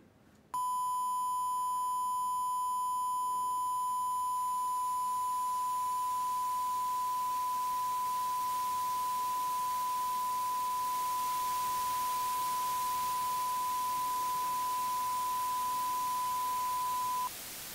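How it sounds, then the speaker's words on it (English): A steady, pure sine test tone with added distortion holds unbroken for most of the clip, and soft broadband hiss gradually blends in beneath it before it cuts off at the end. "our original sine wave"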